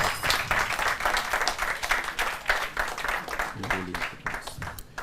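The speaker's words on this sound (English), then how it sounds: "A round of applause for him." Audience applause fills a hall at a university law quiz competition, a steady wash of many hands clapping that holds evenly throughout and then begins to thin near the end.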